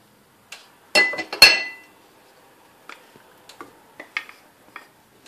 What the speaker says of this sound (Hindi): ये अब मैं इसमें घी डालूंगी।